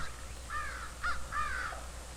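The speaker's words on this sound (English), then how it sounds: "I sure didn't like the cawing of those pesky crows." Crows near a cornfield give several harsh caws in a loose rhythm, fairly close and clear over a quiet background.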